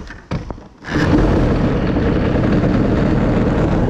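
A scooter fitted with a 2Fast 70 exhaust fires up after a few sputters, then its engine revs into a loud, sustained buzzing roar close by.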